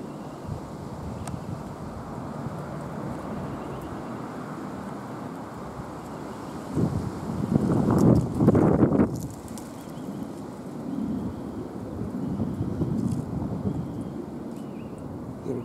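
Wind blows outdoors around a copper pole, a steady low rushing rumble across the microphone that swells into a stronger gust midway before settling again.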